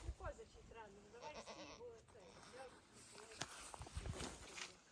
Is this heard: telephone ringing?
no